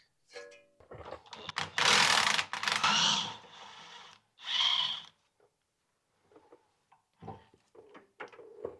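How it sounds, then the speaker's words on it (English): An impact wrench with a long extension and swivel head spins out the 15mm lower rear shock bolt on a Ford Escape. Two loud, buzzing bursts are followed by quieter clicks and handling noises. "I just backed it out with a long extension and a swivel head on my impact"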